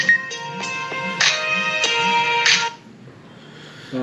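A phone rings with a repeating electronic melody of bright tonal beeps that goes on for about two and a half seconds before stopping, leaving a quiet room tone.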